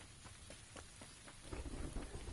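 Rain pours steadily with low rumbling thunder during a video game thunderstorm, a dense continuous wash that swells louder toward the end, with no talk over it.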